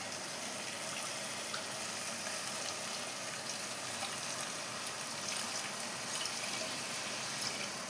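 Water from a tumbler poured into a pot of cooking chicken dum biryani gives a steady, hissing splash and sizzle, fairly quiet and continuous, with no one speaking.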